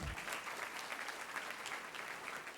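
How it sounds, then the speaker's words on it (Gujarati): An audience at a career counselling programme claps in a steady, dense burst of applause, fairly faint and distant, with no speech over it. "એમના માટે તાળીઓ પાડો"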